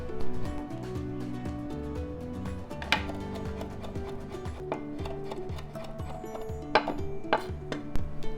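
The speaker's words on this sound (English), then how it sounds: "Now we're gonna chop 1 anchovy fillet." Knife chopping an anchovy fillet on a cutting board for a spinach and tomato pasta, a steady run of close, crisp taps under light background music.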